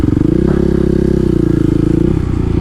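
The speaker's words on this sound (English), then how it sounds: "That was my best wheelie thus far." A supermoto motorcycle engine holds a steady, loud, droning note throughout a wheelie, with a slight clatter over the continuous rumble and no gaps.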